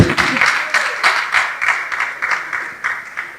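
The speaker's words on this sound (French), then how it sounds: "je veux donc recevoir, sous vos applaudissements, mesdames et messieurs, notre deuxième chroniqueur, monsieur Eli Mondonga" Studio audience applause welcoming a columnist onto a French-language talk show, a dense rhythmic clapping with regular beats, loud and close, running throughout.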